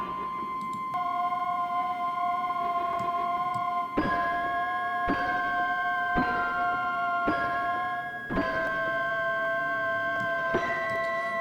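Sampled chimes from inside a toy piano, a Kontakt instrument, ring out in slightly out-of-tune metallic tones. Notes are struck every second or so over a soft, hazy background wash, alone without talk.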